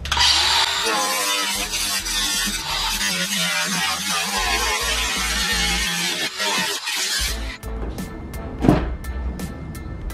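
A power tool trims an oversized piece of a homemade wide-body panel for a Honda CR-V, running loud and steady for about seven seconds before cutting off, followed by a few short sharp knocks.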